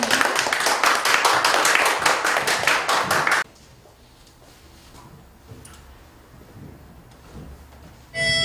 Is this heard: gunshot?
no